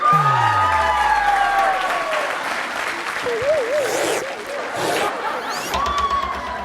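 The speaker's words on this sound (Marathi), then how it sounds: "जोरदार टाळ्या होते." A studio audience at a televised women's game show bursts into loud, sustained applause, mixed with swooping musical sound effects and a brief burst of crowd noise.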